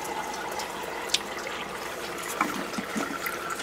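Water trickles and gurgles faintly through an auto siphon in an 18-gallon aquaponic grow bed holding bamboo and peace lilies, with small clicks and drips over a soft steady wash, and no talking.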